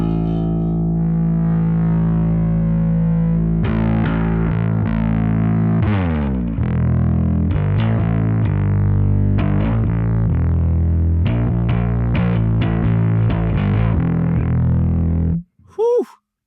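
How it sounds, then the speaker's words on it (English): A bass guitar played through a Darkglass Kaamos distortion pedal, with its blend control swept, rings out in loud, gritty, distorted notes and chords for most of the passage before cutting to a brief pause and a final burst. "So up here we've got a blend. Let's just turn that all the way off and all the way on."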